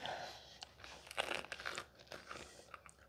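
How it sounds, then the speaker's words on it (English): Bites into a hot calzone give loud, close crunching, with several sharp crackling bursts of crust breaking and chewing over a few seconds. "Microphone's right here by the pizza, so you can hear the crunch."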